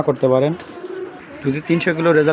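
A pigeon coos close by in soft, throaty, repeated bursts, with a pause between calls.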